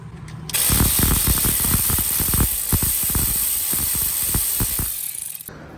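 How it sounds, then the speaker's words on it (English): Ratchet wrench driving bolts into the turbo mounts of a 7.3 Powerstroke diesel during a T4 turbo kit install, rapid close clicking strokes in bursts with a steady hiss beneath and a short pause partway. "Let's go ahead and put our bolts in."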